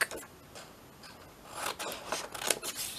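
Scissors snip through paper while pockets are added to an altered book, giving a series of close, soft crisp cuts and rustles with uneven rhythm and no talk.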